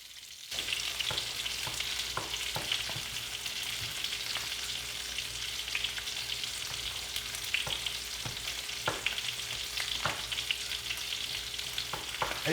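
Potatoes frying in a pan as a continuous close sizzle with occasional small pops and clinks, steady throughout and without any talking.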